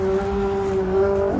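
A rare barn-find Saleen XP8, an Explorer-based V8 sitting unstarted for 11 years, gives off a steady droning whine with strong harmonics that shifts and roughens just at the end.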